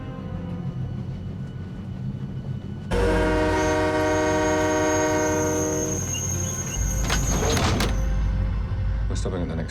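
Train running in a movie scene, with a low rumble that swells into a loud sustained horn-like tone, then clanking rail noise and thumps, with voices speaking over it.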